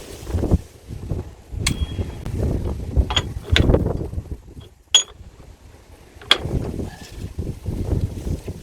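A huge socket wrench works loose a stubborn, oily brake disc bolt on a courier van, giving a handful of sharp metallic clicks and clanks spaced a second or so apart over a low, rough background rumble.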